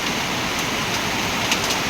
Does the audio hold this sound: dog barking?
no